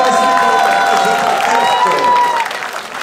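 Football fans in a stadium crowd of about 853 on a Monday evening react with sustained applause and cheering, a dense, steady roar that holds strong before easing slightly toward the end, with whistles and voices threaded through it.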